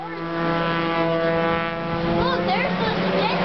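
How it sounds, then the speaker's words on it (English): A jet ski runs on the water at an airshow, its engine a steady, close droning whine that holds throughout, while a voice rises faintly over it toward the end. "Look, there's the jet ski."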